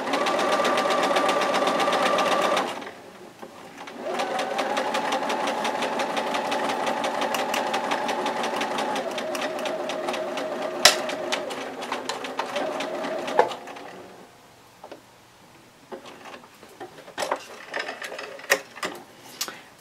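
A sewing machine stitches pinned quilt blocks for a layer cake quilt, running in long steady bursts with short pauses between, close and loud, the motor hum and rapid needle clatter carrying on alone.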